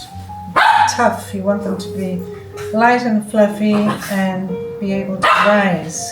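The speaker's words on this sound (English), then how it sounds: "Excuse the barking in the background." A dog barks a few times in the background while someone talks steadily up close.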